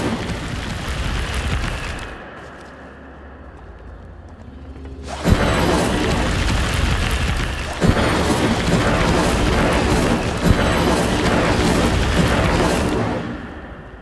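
An Incendio fire spell cast in Hogwarts Legacy bursts in with a sharp whoosh, then a loud, sustained roaring crackle of flames that keeps going for several seconds, broken by a few fresh flaring surges, with no voices.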